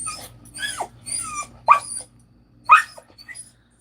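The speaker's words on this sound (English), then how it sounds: "What are you barking about?" A dog barks, yips and whines in a short series of sharp calls with brief pauses, close by and fairly loud.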